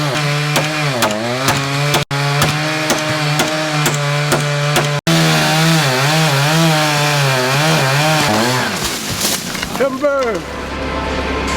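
A chainsaw runs loud and close while cutting down a tree near a house porch during construction, its engine revving and bogging in steady cycles, then falling away as the cut finishes.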